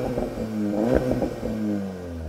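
A VW Golf R fitted with an Akrapovic exhaust is revved while standing still, giving a couple of quick throttle blips that rise and fall over a steady idle, close and fairly loud.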